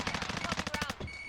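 Rapid burst of gunfire in Call of Duty: Warzone around a ZRG sniper loadout, a dozen sharp shots in quick succession, loud and close, ending abruptly with a short ringing tail.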